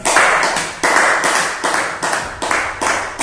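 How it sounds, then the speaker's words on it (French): An audience at a French-language gathering claps in strong, regular bursts about every half second, loud and close, with no talk over it. "applaudissez pour vous"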